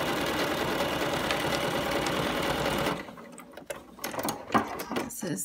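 A sewing machine runs in a fast steady whir for about three seconds while stitching binding onto a fabric container, then stops, leaving irregular handling clicks and rustles.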